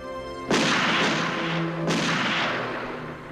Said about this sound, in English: 3 shots were fired at President Kennedy's motorcade.